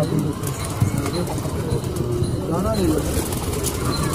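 Pigeons kept by a fancier for sale, with soft cooing and occasional wing flaps amid steady outdoor background noise and nearby talk.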